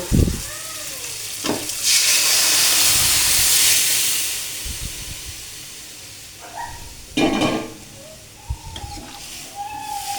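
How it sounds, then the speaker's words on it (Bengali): Boiled chickpeas hit hot spiced oil with a loud sizzling burst that settles into a softer hiss, while a spoon scrapes and stirs the pan close by, with a dog barking faintly. "এখন আমি সিদ্ধ করে রাখা এই বুটটা এখানে ঢেলে দেব"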